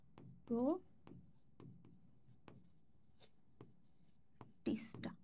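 A teacher writing notes, quick scratchy strokes and taps of pen on a board or paper spaced across the moment, with brief bits of voice between them.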